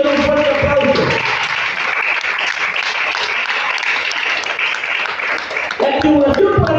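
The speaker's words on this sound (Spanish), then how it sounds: "Bríndale un fuerte aplauso." Church congregation breaking into loud, sustained applause that fills the room for several seconds, with a preacher's voice heard briefly at the start and end.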